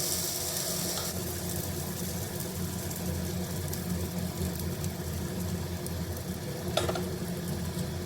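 Pesarattu, a moong dal crepe, cooks on a hot pan with a soft continuous sizzle and faint background hum, steady and low in level with no voices.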